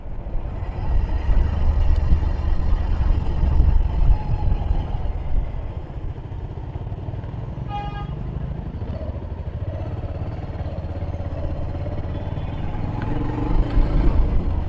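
A motorcycle engine rumbles continuously up close, with wind and road noise throughout a ride on a local road toward Bagda Beach, Odisha.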